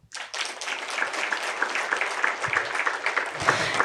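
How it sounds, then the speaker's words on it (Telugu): An audience at a meditation gathering breaks into loud, sustained applause, dense hand clapping filling the hall steadily from start to end. "గట్టిగా చప్పట్లు."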